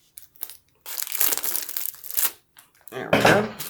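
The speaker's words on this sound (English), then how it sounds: "Let's use the scissors. Makes life a lot easier." Packaging being cut open with scissors during an unboxing, giving bursts of crinkling, crunching plastic and snipping that come and go, with a brief pause midway and a loud rustle near the end.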